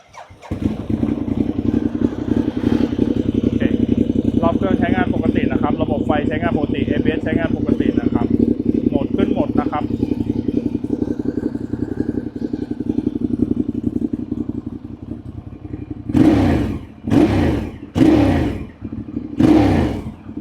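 A Ducati Diavel motorcycle engine idles with a deep, steady rumble, then is revved hard in four sharp bursts near the end.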